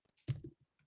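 Brief burst of typing on a computer keyboard, a handful of soft clicks and one firmer tap clustered within a second, close and quiet.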